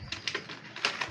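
A racing pigeon coos in soft, close bursts, several short throaty calls in quick succession, heard clearly with no talking.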